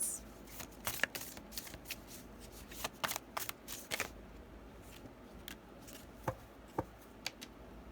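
Tarot cards are shuffled up close in a quiet room, giving soft repeated riffles and flicks with small sharp snaps at irregular intervals.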